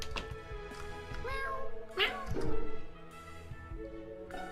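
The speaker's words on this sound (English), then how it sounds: "I should maybe pick up some more upgrades from the kitty. Here, kitty kitty." A cat in the video game Last Word gives a couple of short meows over a background music bed, with a voice speaking nearby.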